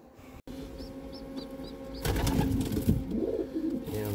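Pigeons cooing softly, with a few short high chirps and then a flurry of wing flaps nearby.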